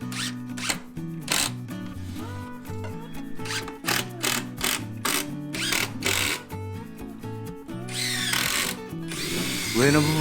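A power drill drives 50 mm screws into handcut pine stair boards, giving repeated close whirring bursts of varied length separated by short pauses and clicks, loud throughout, with no talking.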